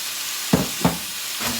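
Cauliflower and other precooked vegetables tipped into a hot pan for a chicken stir fry, setting off two quick bursts of hissing sizzle and then a third softer surge over a low steady fry.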